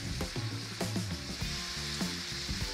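Ground meat browning in a hot pan for a cottage pie, with a loud, close, continuous sizzle broken by sharp crackles and pops and several scraping stirs, no voices.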